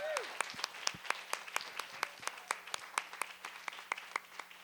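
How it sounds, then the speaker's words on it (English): Sparse, distinct claps ring out in a quiet room at a library storytelling slam, individual sharp hand claps spaced roughly evenly and fairly faint, with a brief voice at the start. "Can we give the tellers all another huge round of applause?"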